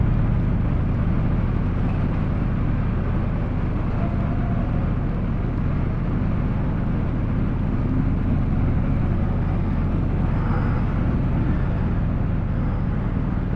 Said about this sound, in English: Noisy, dirty, smelly motorbikes.